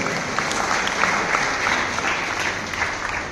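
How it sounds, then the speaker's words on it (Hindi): A crowd at a youth festival event in Baloda Bazar gives steady, dense applause. Many hands clap continuously at an even loudness for the whole stretch, with a faint murmur of the crowd underneath. "एक बार जोरदार तालियों के साथ अभिनंदन।"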